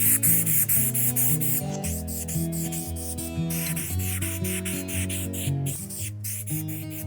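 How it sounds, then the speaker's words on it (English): Super 77 spray adhesive hisses from an aerosol can onto T-shirt fabric pieces in repeated close bursts, with short pauses between sprays and music playing steadily underneath. "spray both pieces with some of this Super 77, let it cure a little bit"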